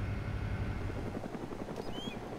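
A helicopter in the DayZ mod flies fast overhead, a steady rotor thrum with a rapid beating pulse, loud and near, with brief whistling tones near the end.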